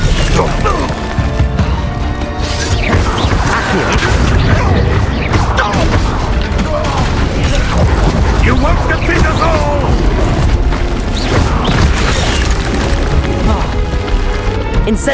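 Confringo fire-spell explosions burst amid a chaotic Hogwarts Legacy battle against goblins at an encampment, with booms, splintering crashes and clatter packed densely and loudly throughout.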